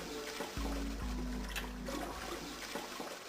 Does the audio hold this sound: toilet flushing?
yes